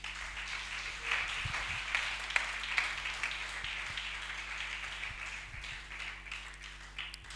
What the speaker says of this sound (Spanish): Dale un aplauso al Señor por ellos.